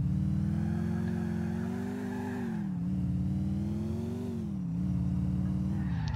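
A Mercedes C63 AMG engine in the video game GTA IV, a steady mid-pitched drone rising and falling gently as the car drives, loud and continuous with no talk.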